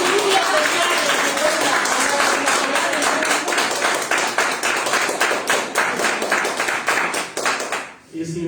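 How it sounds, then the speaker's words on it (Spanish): Church congregation clapping together in a steady, fairly loud burst of applause that tapers and stops abruptly near the end. "Den un aplauso, Señor."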